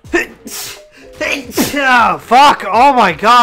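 A sudden loud human sneeze bursts out at the start, followed by an exasperated exclamation and continued talking from the same man during a Rainbow Six Siege gaming session.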